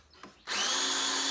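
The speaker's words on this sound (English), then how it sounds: "that keeps the screw head from the drill from the flipping out" A power drill drives a screw into wood for a saw table rebuild, a brief click followed by a loud, steady whirring burst close by.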